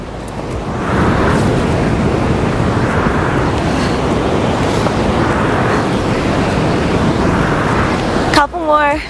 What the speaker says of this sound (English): I don't know if you can hear the ocean in the background,